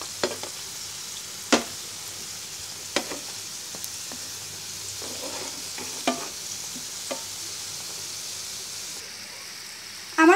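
Chicken singaras fry in oil on low heat, giving a soft, steady sizzle with occasional sharp clicks and pops spaced irregularly, fairly quiet and close, with no talking.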